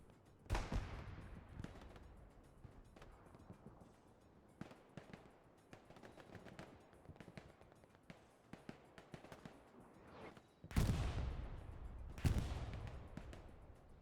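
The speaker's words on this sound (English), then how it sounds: "The strafing run came over as well, it seems, from the allies." A strafing run in the World War II shooter Hell Let Loose on the Hurtgen map brings rapid automatic gunfire and crackling bursts, with heavy booming hits near the start and two more late on, over constant distant battle noise.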